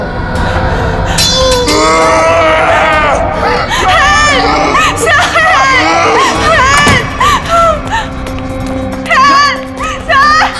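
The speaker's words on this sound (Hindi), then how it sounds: "चीख क्यों रही हो?" A woman screams loudly and repeatedly in a dramatic crime-series scene, her cries rising and falling in sharp bursts over a tense backdrop, with other voices and commotion mixed in.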